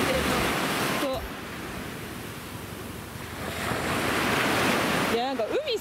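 Ocean waves washing onto a shore near Itoshima, Fukuoka, a steady surf wash that swells and fades, with brief voices at the start and end.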